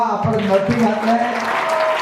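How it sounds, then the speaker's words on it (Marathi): Audience applause at a Bhatia High School foundation day ceremony in Kurla, Mumbai, a steady crowd clapping that runs beneath a person talking over a microphone throughout. "त्यांच्यासाठी टाळ्या वाजवा"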